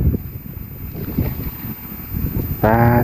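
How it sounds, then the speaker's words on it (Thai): Wind gusts across an outdoor site where an old kitchen is being torn down, a steady rushing blow with rumbling buffets on the microphone, ending in a louder burst with a brief tonal whine. "ให้ลมเป่าเข้ามาเนาะ ให้ลมเป่าก่อน"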